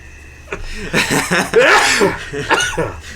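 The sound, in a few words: sneeze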